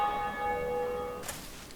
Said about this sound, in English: let's ring the first bell and get things moving along